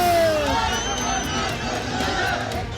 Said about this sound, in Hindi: नारों से गूंजती मंडी की वादियां